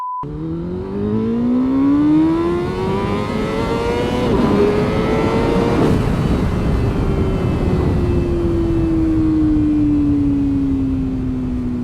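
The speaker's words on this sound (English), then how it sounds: "This thing refuses to launch. It just cuts power immediately." A race motorcycle launching on a drag strip while it cuts power: a loud engine tone rises steadily, then drops and fades away as the power cuts.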